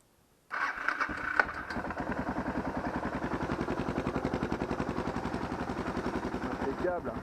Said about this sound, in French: Et là, la moto doit logiquement démarrer.